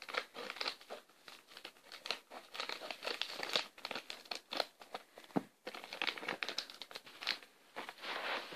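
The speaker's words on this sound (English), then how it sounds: "Now I take some scissors and cut it." Plastic blind bag crinkling and crackling as scissors cut it open, a steady close-up rustle of rapid bursts lasting several seconds with no talking.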